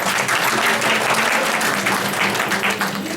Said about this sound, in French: On acclame pour les petits mariés